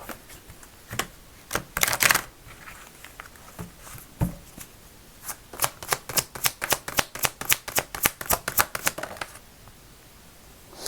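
Fortune-telling cards are drawn and shuffled close up, starting with scattered soft flicks and slides, then a long run of quick, even riffling snaps before settling.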